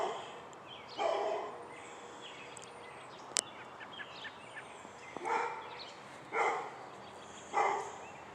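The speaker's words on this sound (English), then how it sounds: "Yeah, stupid mouthy dogs out here." Several dogs bark outdoors at mid-distance on an early morning, three or four separate bursts spaced a second or so apart against faint ambient background, with one sharp click between them.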